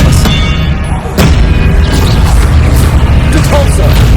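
Expelliarmus spell cast in Hogwarts Legacy, a loud burst with booming crashes and thuds amid continuous dense game noise and effects.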